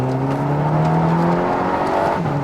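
An Audi TT (MK2) sports car engine hums and revs, its steady drone rising and shifting in pitch, close and fairly loud with no talking.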